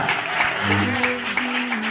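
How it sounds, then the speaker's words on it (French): A congregation at a church prayer line claps steadily in a dense burst of applause, with voices chanting or calling out over it. "Applaudis pour lui, applaudis pour lui, applaudis pour lui."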